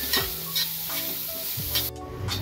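Chopped onion sizzling in oil for a village-style chicken rassa while a spatula scrapes and stirs it in several quick strokes, close and clear with no talking.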